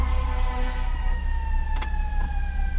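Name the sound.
city sirens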